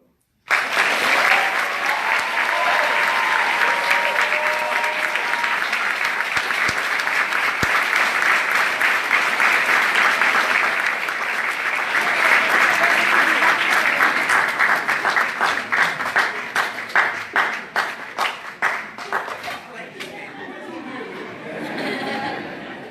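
A graduation ceremony crowd claps loudly and steadily for about twenty seconds, then the applause thins into scattered claps with faint chatter and a brief voice toward the end.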